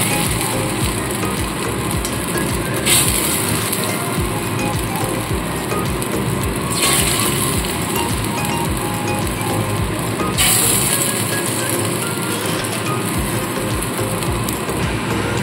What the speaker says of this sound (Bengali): এইভাবে আবারও বেশ কিছু পকোড়া ভেজে নেব